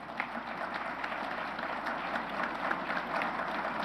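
Sustained audience applause fills a hall at an international conference on the World War II prisoner-of-war experience, steady dense clapping throughout with no talk over it.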